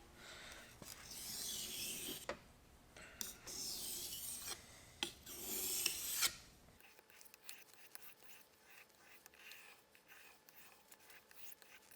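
A cheap dollar store knife is drawn across a sharpening stone in repeated rasping strokes for about six seconds. The grinding then stops, leaving quiet handling sounds.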